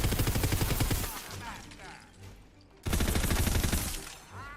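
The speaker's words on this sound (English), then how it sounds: "Ice gun." Rapid gunfire from an ice gun in a fantasy-setting looter shooter game, loud dense bursts of shots in two stretches separated by a quieter gap with a voice.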